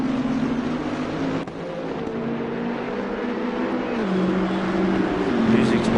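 Race car engine in Assetto Corsa Competizione at Oulton Park, a steady sustained drone with shifting pitch as the car changes gears, under continuous commentary.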